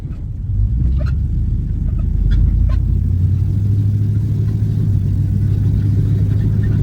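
A 1979 Camaro with an LS engine swap drives on a road, its engine producing a steady loud low rumble with road noise throughout and a few faint high clicks early on.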